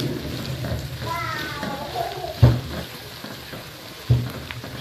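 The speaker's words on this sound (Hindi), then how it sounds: "इसको अच्छे से हम लोग प्याज और आलू को इकट्ठा फ्राई करेंगे।" Onions and potatoes fry together in a pan with a steady sizzle and a couple of sharp stirring knocks, while someone talks over it.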